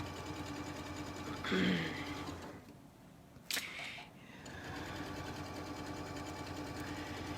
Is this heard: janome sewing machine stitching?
yes